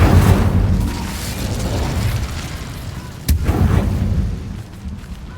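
An Incendio fire spell bursts in Hogwarts Legacy with a loud, roaring rumble that fades and then flares again in a sharp crack and second rush, over constant game noise.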